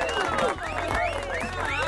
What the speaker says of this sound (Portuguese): Eu quero uma salva de palmas para Cortella!